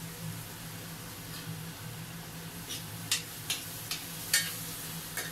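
Crushed canned tomato sauce stirred in a pan, a steady low background hum and sizzle with a few distinct utensil scrapes and taps toward the end.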